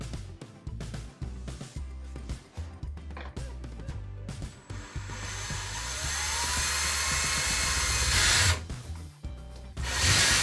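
A power drill drives into a wall to fit a door stop, with a steady whining drill sound that builds and grows louder toward the end, broken by short pauses and scraping handling noises.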